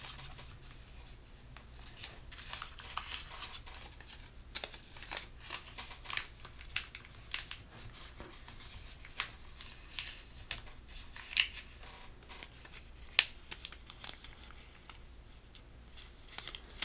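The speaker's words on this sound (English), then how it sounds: "You're going to do an open squash fold, right? You're going to open up the center like that." Paper being worked into an open squash fold while folding an origami beagle: continuous close crinkling and rustling with scattered crisp crackles throughout.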